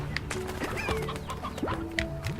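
A chicken in the Slime Rancher video game gives several short clucks and coos at a moderate distance, set against a busy in-game background with no talking.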